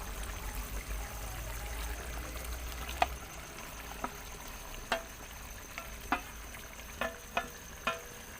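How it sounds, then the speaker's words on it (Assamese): Jackfruit pieces in a pan of fried spice masala make a soft frying sizzle under a run of sharp, irregular clinks and scrapes from stirring that grow more frequent toward the end, close by and without voices. "মই এতিয়া ইয়াত এই কঁঠালখিনি দি দিম।"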